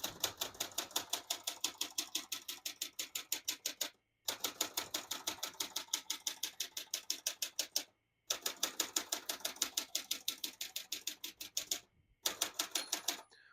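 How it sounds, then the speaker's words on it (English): A 1968 Olympia Splendid 66 vintage portable manual typewriter types steadily, rapid crisp key strikes in even bursts of a few seconds separated by brief pauses, close and clear, with a faint carriage bell near the end. "We'll measure that after I do a type sample."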